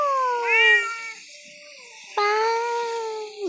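A cat meows twice, close and clear, the first call a long drawn-out wail and the second a rising, insistent meow after a short pause.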